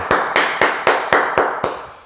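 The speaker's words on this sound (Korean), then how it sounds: "주께 감사와 영광의 박수 올려드리겠습니다" A congregation claps in unison at a Korean church's early-morning prayer service, seven sharp, evenly spaced claps ringing out alone in a steady rhythm before the sound fades.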